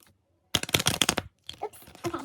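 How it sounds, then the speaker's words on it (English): A stiff new deck of playing cards is riffle-shuffled in a quick burst of dense crackling clicks lasting under a second, close by, followed by softer handling rustle. "These cards are really stiff still, so it's kind of hard to shuffle."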